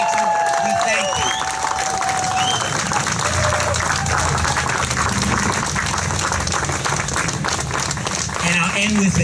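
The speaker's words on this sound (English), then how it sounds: "Let's give our students another big round of applause." An outdoor crowd at a March for Our Lives rally in Peekskill, NY, in front of a library claps loudly and continuously for students, with cheers, whistles and scattered voices rising through the sustained applause.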